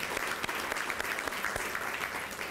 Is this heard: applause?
yes